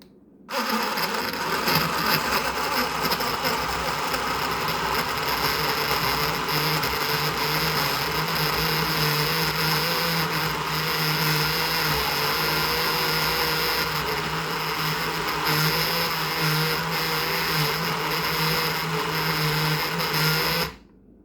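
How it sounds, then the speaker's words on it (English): A blender whirs steadily as it blends a strawberry banana smoothie, a loud, continuous motor drone with a rough grinding texture that runs unbroken for about twenty seconds before cutting off. "let's go ahead and blend it"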